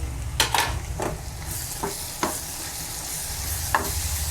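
A green chilli and garlic paste fries with onions in a pan, giving a low, steady sizzle. Several sharp spoon scrapes and taps land at irregular moments on top of it, with no one speaking.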